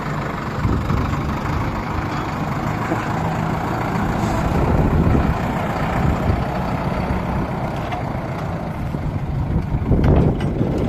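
A Solis 105 tractor pulls a Promin DAR-2.8 spring-tine disc harrow across wet former corn ground, giving a steady, loud diesel drone with rumbling and rattling from the discs throughout, no talking.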